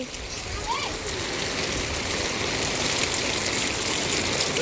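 Steady rain pours down with a constant, dense hiss of drops on the surfaces nearby, and a voice can be heard faintly under it.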